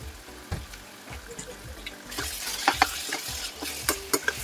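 Beef and onions fry in a pan while being stirred, with a steady sizzle beneath repeated scraping strokes and the clatter of a utensil, up close.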